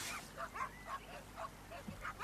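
Dogs yip and whimper repeatedly in a quick, irregular series, sounding distant and faint under steady background hiss.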